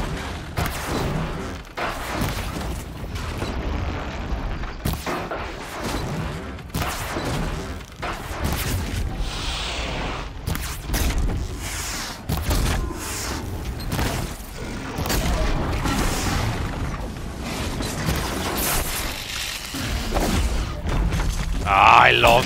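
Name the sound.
bomb explosions in Horizon Zero Dawn video game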